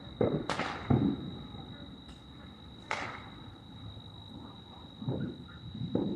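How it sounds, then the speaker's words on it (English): Fourth of July fireworks go off in a series of sharp booming pops, spaced a second or two apart, while people chatter nearby and a steady high whine lingers underneath. "They got the good fireworks back there."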